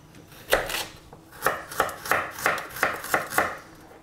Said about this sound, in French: On va couper la carotte.